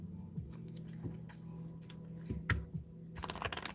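A deck of cards being shuffled by hand, a run of soft, close ticking flutters and taps over a low steady hum, growing busier toward the end.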